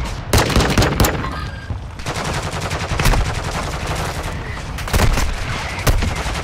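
Rapid bursts of video game gunfire on Ashika Island crackle continuously, with several heavier booming shots punctuating the steady automatic fire.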